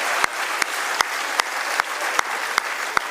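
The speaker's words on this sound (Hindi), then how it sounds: "आप लोग जोरदार तालियां बजाइए।" Applause from a crowd at a comedy poetry event, a steady, fairly faint patter of clapping with sharp, evenly spaced louder claps cutting through.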